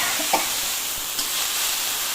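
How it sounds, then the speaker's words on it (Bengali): Leafy greens (shak) frying in a little oil with turmeric and salt, a soft continuous sizzle with a couple of faint clinks as they are stirred in the pan. "এইভাবে এখন 5-7 মিনিট ভাজবো, শাক ভাজাটা কমপ্লিট করবো"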